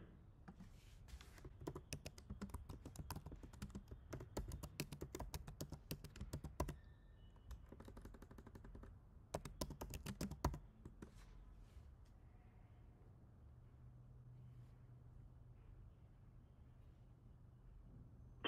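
Keys clatter on a computer keyboard as a street address is typed during a phone call, with dense bursts of rapid tapping broken by short pauses, and then a quiet, steady hum once the typing stops.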